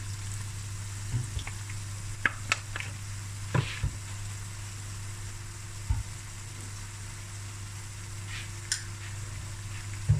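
Chicken and baked beans curry simmering in a pot after a splash of brown vinegar, a steady low sizzle with a hum underneath and occasional soft clicks and stirring taps.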